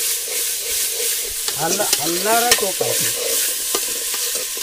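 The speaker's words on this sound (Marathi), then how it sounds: "आता उडान फोडणी घालतो" Spices crackle and sizzle in hot oil as a tempering for Malvani chicken, cooked outdoors in a rural hut, with a steady hiss under the whole stretch and a short burst of speech in the middle.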